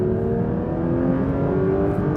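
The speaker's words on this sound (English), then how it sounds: "that is such an amazing engine" A Porsche 911 S/T engine revs loudly and steadily, a rich droning tone with a strong mechanical growl held close up for a couple of seconds, with no speech over it.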